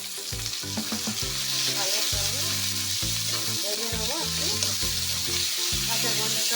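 Ginger, garlic and chili paste frying in hot oil in a pan for a chicken dish, a loud continuous sizzle with stirring scrapes, close up.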